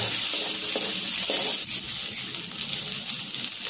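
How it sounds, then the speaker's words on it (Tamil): Chopped green chillies frying in hot oil in a pan and being stirred, a steady close sizzle with a few scraping stir strokes early on, no talk. "நல்லா கிண்டி விடுங்க. பச்சை மிளகாய் நல்லா வந்து வதங்கணும்."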